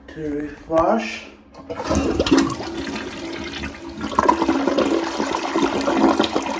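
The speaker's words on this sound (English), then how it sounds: "Next you're going to flush." A toilet flushes after a plunger unclogging, its rushing swirl of water filling most of the clip at close range, preceded by a brief voice and a squeak.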